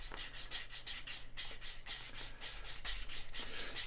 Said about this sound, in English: I'm just twisting the burnishing tool with my wrist, and that's getting into that concave shape there quite nicely